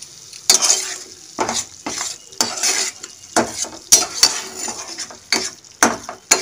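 Boneless meat with eggs being sautéed and stirred in a pan, a sizzling base under repeated loud scraping and clattering strokes of a metal spoon in an uneven rhythm.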